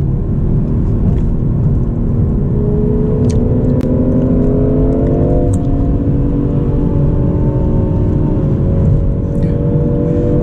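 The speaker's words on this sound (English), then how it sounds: "You get a lot of crackles and pops when you're in the Sport Plus mode." A BMW M340i xDrive in Sport Plus mode, driven in manual third gear, drones with a steady, loud engine and exhaust note that rises in pitch, then an upshift to fourth near the middle before the revs climb again.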